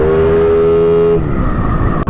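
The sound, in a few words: Yamaha NMAX scooter exhaust pipe being tested for rattle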